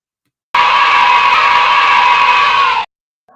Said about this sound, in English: the primordial scream.